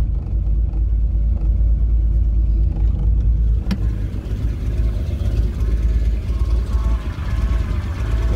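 VW Golf 3 VR6 Turbo engine running roughly after a long standstill, with an exhaust leak at the middle silencer: a steady, deep, close rumble with uneven pulsing and no talk over it.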